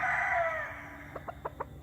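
Gravedigger chickens, a rooster crowing loudly and close in one drawn-out call that fades, followed by a short series of quick clucks.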